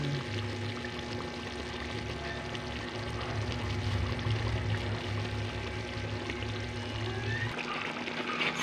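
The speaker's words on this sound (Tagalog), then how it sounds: "Dahil latik na po siya, ibubuhos ko na po yung aking asukal." Sugar poured into bubbling latik, the coconut caramel for a homemade biko rice cake, gives a steady close hiss and sizzle with a soft, continuous pouring rush that eases off near the end.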